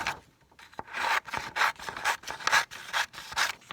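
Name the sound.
trimming a paper strip for a notebook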